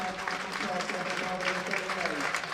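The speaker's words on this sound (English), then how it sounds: "And just listen to those applause." Crowd applause at a Worcestershire Rapids versus Durham T20 cricket match, a steady, dense wash of clapping sustained throughout with a commentator's voice partly mixed in.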